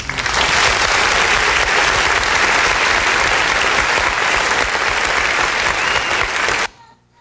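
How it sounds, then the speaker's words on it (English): An audience applauds a kindergarten class at a school United Nations event, steady loud clapping sustained for several seconds before cutting off abruptly to near silence. "let's give a warm round of applause to our kindergarten class as they take the stage"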